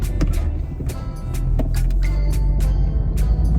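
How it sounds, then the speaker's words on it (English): An Audi TT Mk3 with quattro drive accelerating hard through a corner with brief wheel spin: loud, continuous engine roar from inside the cabin, rising and holding, with rumbling road noise and a few knocks. "That was a bit of wheel spin as well there."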